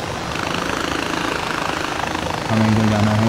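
A helicopter engine in the video game Far Cry 4 drones steadily throughout, growing louder with a tonal hum that swells in near the end.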